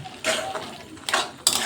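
Taro leaves in a mustard-poppy paste being stirred in a pan, heard as three short scraping, clinking spoon strokes against the metal, close and brief with a soft background in between.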